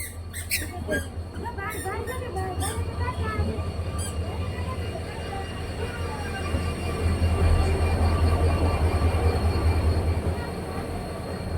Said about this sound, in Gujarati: અહીંયા ટ્રેન આવી ગઈ.